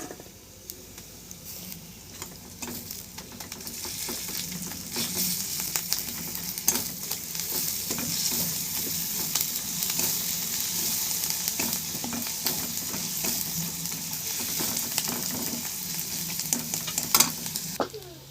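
Ginger paste fries with chickpeas and cabbage in a pan, a steady sizzle under repeated scraping stirs of a spatula, clicks and scuffs recurring throughout at moderate loudness.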